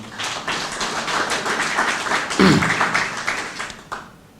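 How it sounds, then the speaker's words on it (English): Applause from a crowd at a groundbreaking ceremony for The Artisan in Prince George's County, a steady wash of clapping with a brief louder burst midway before it thins out. "If we can give him a round of applause."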